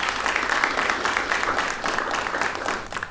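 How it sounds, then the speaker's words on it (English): An audience at an NSSF Uganda event applauds, a dense, steady wash of many hands clapping that holds at a fairly loud level for a few seconds. "Please give him a round of applause."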